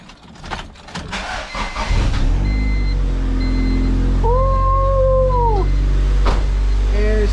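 A Honda B18B1 engine, just back from a valve adjustment, fires up and settles into a loud, steady running rumble, with a brief rising and falling whine partway through.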